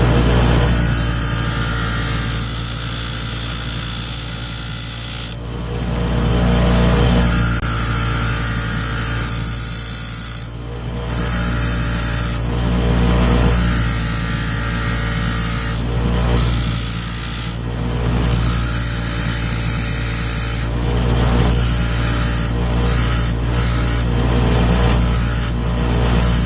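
Power grinder working on engine rod bearings for a budget GSR engine, a loud continuous whine with a steady low hum beneath, cutting in and out in several bursts over a long stretch.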